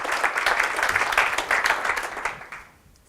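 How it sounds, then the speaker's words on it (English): A lecture audience at a heidelberg.ai talk applauds the speaker, a dense burst of clapping that holds for a few seconds and then quickly fades away. "please give a warm applause"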